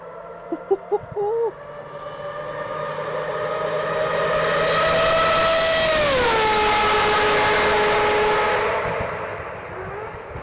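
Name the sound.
Mazda 787B race car engine passing at high speed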